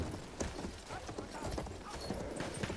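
Horse hooves clip-clop at a steady trotting rhythm in the video game Battlefield 1, fairly quiet, with no talking over them.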